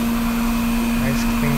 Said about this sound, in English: Just jog the machine out of the way and take a look.